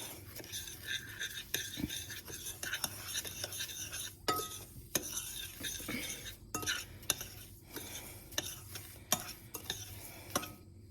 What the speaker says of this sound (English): And then we'll stir this up and put this in the bottom of our baking dish.